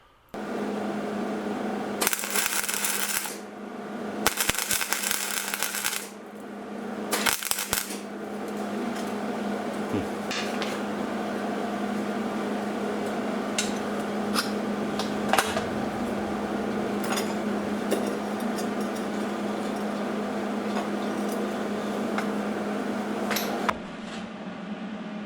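A welder fuses a MagnaFlow muffler, part 2001777, on a 1998 Chevrolet Blazer exhaust. After a few short bursts, the arc settles into a long, steady crackling sizzle over a low hum, moderately quiet and close.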